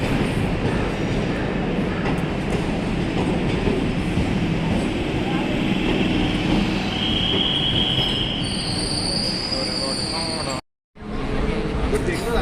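A Chennai local train rumbles steadily along the rails, heard loud and close from the open doorway, with grinding wheel noise and high metallic squeals rising near the end.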